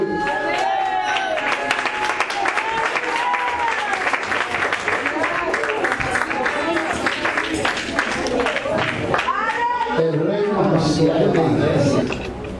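Church congregation applauding and cheering during a service, a loud continuous roar of clapping and crowd voices with shouting and exclamations rising over it, swelling near the end.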